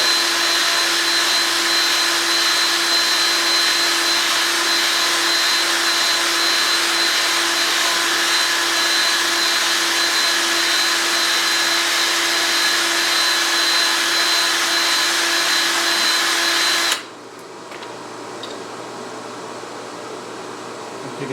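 A drill bores a tight 8 mm hole through a steel steady-rest roller part, giving a loud, even whirring hum that holds steady and then cuts off abruptly, leaving a quieter background.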